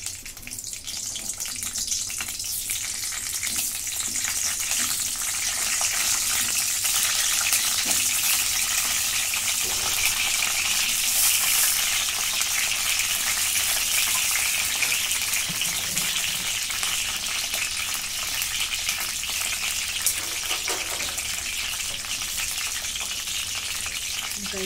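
Capsicum sizzles in hot oil in a kadhai on a gas stove, giving a steady, loud, hissing fry that continues throughout at close range with faint clatters.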